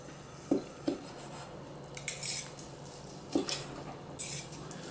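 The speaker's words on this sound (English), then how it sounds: "Cool, the moment of truth. Let's cut this up." A knife slices rested pan-seared pork tenderloin au poivre with green peppercorns on a board, giving a few distinct, close taps and clicks followed by softer scraping strokes.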